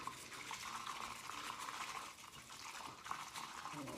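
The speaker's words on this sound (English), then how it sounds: "we're gonna add some water and then whisk it" Matcha tea being whisked with added water gives a steady, faint, bright swishing and sloshing that runs continuously with no pauses.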